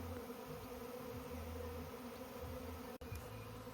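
A honey bee swarm buzzes outdoors in the Cotswolds, a dense continuous drone of many bees, steady and fairly faint, with no voices over it.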